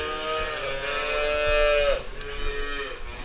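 Calves in jackets on a farm in arctic cold bawl for milk, with one long, loud moo close by, then a softer, shorter call.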